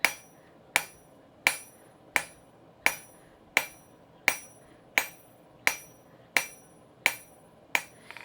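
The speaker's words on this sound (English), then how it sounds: "I'm hitting just behind that edge of the anvil to make it just a little bit thinner" A hammer strikes metal on an anvil in an even rhythm, about twelve sharp ringing blows roughly 0.7 seconds apart, each decaying quickly, loud and close with no talking.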